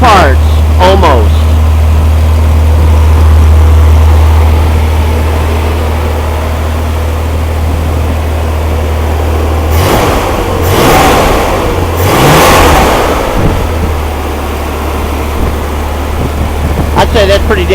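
A small 80 horsepower engine built from mostly used parts runs on its first start with a loud, steady, close drone. A few sharp revs come midway, and then it settles back to a rumble.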